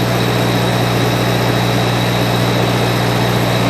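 A 1953 Farmall Cub tractor engine with a warped carburetor idles steadily and loudly up close, a constant low mechanical drone with no break and no voices.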